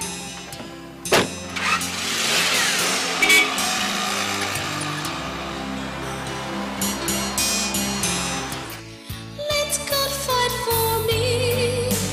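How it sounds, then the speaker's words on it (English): A car pulls in and parks, its engine humming steadily and close for most of the stretch before a brief clunk and a shift into lighter mechanical noises near the end. "Let me park my car."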